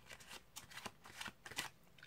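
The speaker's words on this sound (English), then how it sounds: "you shuffle off the rest of the cards" A deck of playing cards is shuffled close up during a card trick, giving quiet, crisp riffling bursts in an uneven rhythm with short pauses between them.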